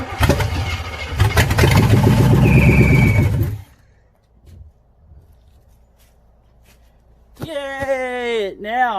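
An old 1980s Chevy C10 pickup truck engine cranks, catches and runs loudly for a few seconds before cutting out, followed by a quiet stretch and then a voice cheering at the end.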